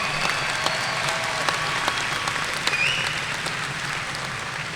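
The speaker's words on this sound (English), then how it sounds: "Big round of applause, please." A crowd at a college graduation ceremony claps in sustained applause, a dense steady patter filling the room at moderate loudness with no talk over it.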